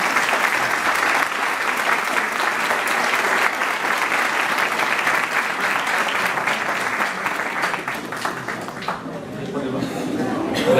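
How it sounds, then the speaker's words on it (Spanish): Sustained audience applause fills a round-table panel session at an academic conference, dense steady clapping throughout that thins out near the end. "yo les voy a pedir un fuerte aplauso"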